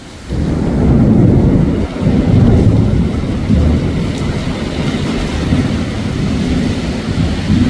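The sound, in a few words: heavy rain and strong wind storm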